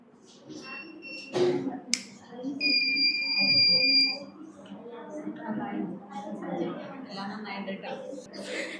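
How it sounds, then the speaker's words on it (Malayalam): A student-built fire alarm at a school robotics fest sounds a sustained electronic beeping tone for about two seconds, amid a noisy hall with people talking and a sharp click. "ഇതിലുള്ള സെൻസർ അത് സെൻസ് ചെയ്തിട്ട് ഈ അലാം സൗണ്ട് പ്രൊഡ്യൂസ് ചെയ്യും."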